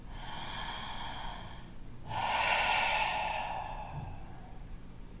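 A full, deep breath taken while seated cross-legged in a stress-release yoga session, hands at the heart: a long airy inhale, a brief pause, then a louder, fuller exhale through the nose, close and alone.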